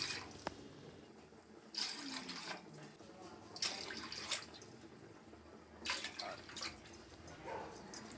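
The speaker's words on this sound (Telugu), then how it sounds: "ఇప్పుడు వాటర్ కూడా వేసేసుకుందాము." Water is poured into a biryani pot for three glasses of rice with six glasses of water, coming as several splashing bursts over a quiet kitchen background.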